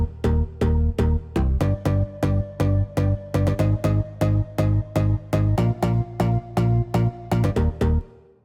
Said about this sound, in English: the bass sound is made up of 4 layers